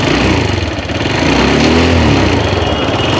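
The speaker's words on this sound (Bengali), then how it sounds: "এটা হচ্ছে আমাদের বাইকের বর্তমান সাউন্ড" A TVS Stryker 125cc motorcycle engine runs steadily close by, a loud, even buzzing drone with little change in pitch and no talking.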